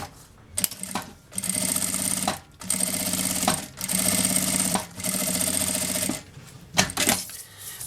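A sewing machine stitches a fabric seam in several bursts of rapid mechanical whirring lasting about a second each, separated by short pauses and small clicks, heard close and alone.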